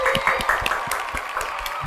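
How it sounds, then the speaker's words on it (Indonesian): An audience at a documentary screening claps after a film trailer, a short burst of scattered, fairly close hand claps at an uneven rhythm over a murmuring room. "tepuk tangannya dulu dong"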